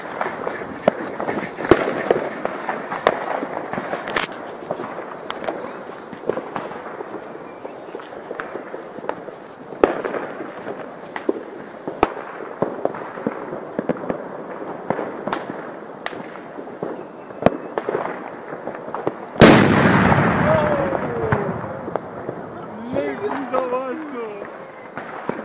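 New Year's Eve firecrackers and fireworks go off outdoors, with many sharp cracks and bangs scattered irregularly, some near and some distant, then a louder close blast with a crackling tail, while people talk and move about.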